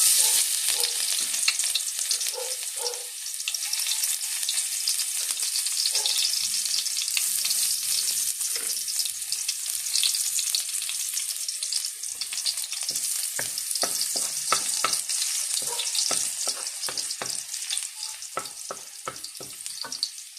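Garlic sautéing in hot cooking oil in a pan, a loud, continuous close sizzle with scattered scraping and stirring clicks, no voices present.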